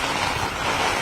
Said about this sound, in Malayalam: വലിയ തോതിലുള്ള മഴ, കാറ്റ്, ശക്തമായ കാറ്റാണ് ഈ പ്രദേശത്ത് ഇപ്പോൾ രൂപപ്പെടുന്നത്